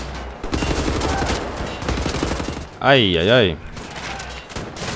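A burst of rapid gunfire in Wolfenstein: The New Order rattles under a man's excited chatter, with a wavering electronic tone sweeping through midway.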